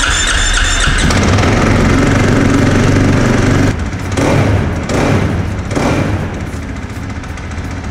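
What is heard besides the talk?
motocross motorcycle engine revving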